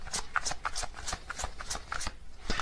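Tarot cards are shuffled and drawn by hand in quick, repeated riffling bursts, close and moderately soft, with no talking.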